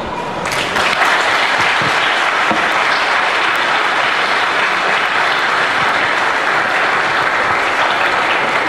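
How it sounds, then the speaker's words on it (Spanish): Loud, sustained applause from a church congregation, with full, dense clapping that swells quickly and carries on steadily. "Si ese aplauso es para Edgar y la Elba, está bien"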